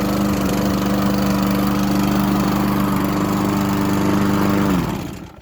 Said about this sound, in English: I'm gonna mow this lawn